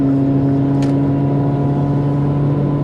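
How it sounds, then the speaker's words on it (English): A steady engine drone with a strong low hum, constant and fairly loud throughout, like a vehicle motor idling or running nearby. "And we hear the engines rolling."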